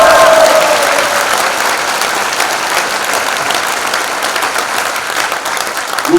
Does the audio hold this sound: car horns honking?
no